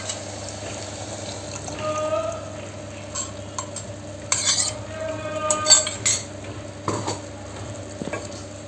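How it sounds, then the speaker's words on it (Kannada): Water being stirred into freshly ground masala paste for vegetable pulao, with metal utensils clinking and scraping against a pan and a low steady kitchen hum beneath, no talking. "ಈಗ ರುಬ್ಕೊಂಡಿದ್ನಲ್ಲ, ಅದಕ್ಕೆ ಸ್ವಲ್ಪ ನೀರನ್ನು ಮಿಕ್ಸ್ ಮಾಡಿಕೊಂಡು ನೀರನ್ನು ಹಾಕ್ತಾಯಿದ್ದೀನಿ."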